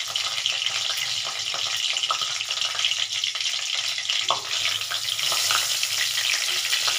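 Dried red chillies and torn bay leaves frying in hot oil in a pan, a steady close sizzle and crackle running evenly throughout with no talking.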